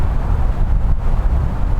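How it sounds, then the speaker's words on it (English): Strong wind gusting outdoors on a lake shore in Temagami, a loud, constant low roar buffeting the microphone with rumbling pulses and no voices. "this is crazy windy"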